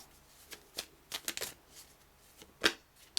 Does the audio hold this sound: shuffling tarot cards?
yes